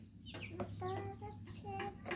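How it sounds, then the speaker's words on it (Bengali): Tiger breed chickens on a small farm cluck and chatter close by in short repeated calls over a low steady hum. "আমি মুরগিগুলোর অবস্থা দেখাচ্ছি আপনাদের"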